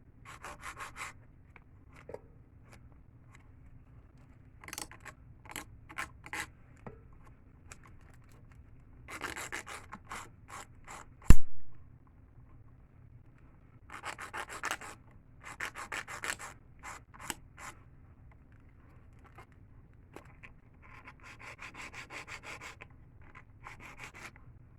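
An acrylic nail being filed into a pointed stiletto shape gives repeated bursts of rough rubbing strokes, close and moderately loud, separated by short pauses, with one sharp knock midway.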